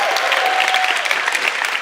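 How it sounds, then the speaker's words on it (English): Audience applause fills a church-conference hall in a steady, dense wash of clapping for someone at the back, loud and continuous throughout with a faint tone briefly underneath. "Give somebody in the back a big round of applause."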